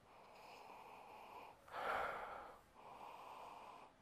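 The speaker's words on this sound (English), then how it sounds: "So let's give it a sniff. Sniffity sniff." A single close, breathy sniff taken over a glass of home-brewed Wilko Hoppy Copper Bitter with a thick foamy head, hopped with Willamette, set against a faint steady room hum.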